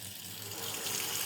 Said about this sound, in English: And you just turn the water on.